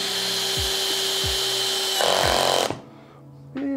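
A power drill drives screws into wood for cabinet face frames, whirring steadily at close range, rising briefly as it bears down, then stops and restarts for a moment.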